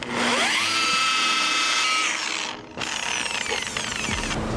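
A machine buffs out touch-up paint on a car scratch with a steady whirring grind. It dips and cuts out briefly partway through, then starts up again, loud and close.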